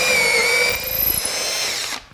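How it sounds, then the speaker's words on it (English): A power drill with a small supplied bit bores a shelf pin hole into a bookshelf side panel, whining steadily for about two seconds at close range before stopping abruptly, with no talking. "is you drill your first hole."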